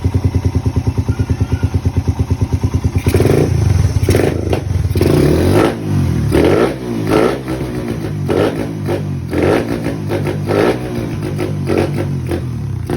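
A Suzuki Raider 150 motorcycle fitted with a big Keihin carburetor idles with a fast, even putter, then blips up into loud, choppy revs with repeated throttle bursts close by.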